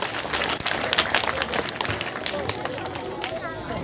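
Loud, dense applause from an audience at a Kendriya Vidyalaya school celebration of Foundation Day and Grandparents Day, steady broadband clapping filling the whole stretch with some crowd murmur mixed in.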